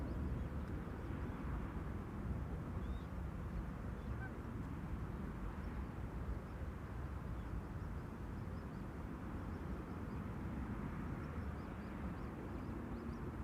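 Wide-body airliners arrive on runway 27 at Amsterdam Schiphol, heard as a faint, distant, steady jet roar and rumble that holds evenly for the whole stretch with no voices.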